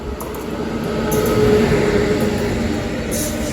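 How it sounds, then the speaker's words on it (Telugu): A train passing on the adjacent track on a rail journey from Mysuru toward Tiruvananthapuram, a loud, close, continuous rumble of rolling wagons that swells and holds steady with faint metallic squeals. "అటుపక్క ఏదో ట్రైన్ క్రాస్ ఓవర్ అవుతుంది."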